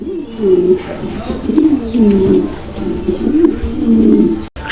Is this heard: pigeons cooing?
yes